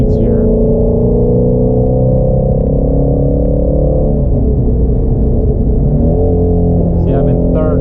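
A 2017 Ford Mustang GT350 engine drones steadily in third gear at around 80 mph and just under 4,000 rpm, a loud, close, even tone with only slight shifts in pitch.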